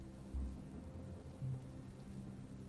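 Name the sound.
rain with thunder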